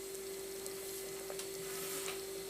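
Steady, soft sizzling and bubbling of a pot of pumpkin and coconut curry simmering close by, with a constant hum running underneath.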